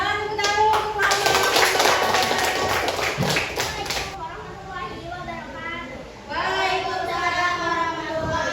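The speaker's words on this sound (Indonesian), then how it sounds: "Tepuk tangan untuk Mama" Classmates in a classroom clap for a mother, with dense close handclapping for the first few seconds, then voices talking and chatter taking over as the clapping fades.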